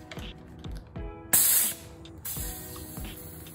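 Faint, steady hiss of air leaking from a compressor hookup while motorcycle brake lines are bled on a Yamaha MT-07 stunt build, with brief louder bursts of air and light mechanical clicks nearby.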